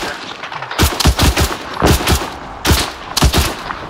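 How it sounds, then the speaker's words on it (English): Rapid bursts of automatic gunfire in Arma 3, loud clustered volleys cracking out in quick succession with brief lulls between them. "Yeah, we're getting shot up."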